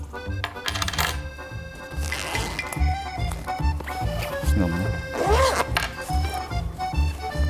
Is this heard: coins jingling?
yes